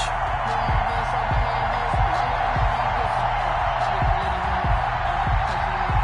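Stadium crowd roaring before kickoff in a Madden NFL game between the Pittsburgh Steelers and Carolina Panthers, a dense, continuous wash of cheering that holds steady throughout, with repeated low thumps beneath it.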